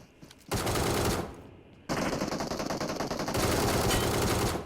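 Rapid automatic fire from an ACE32 rifle in PUBG Mobile, a loud sustained burst that breaks off briefly, then resumes in a long, dense stream of shots.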